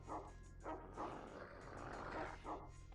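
A dog barks a few times in the video game The Xcom Files, short faint yips spaced about half a second apart over a low steady background hum, with no talk.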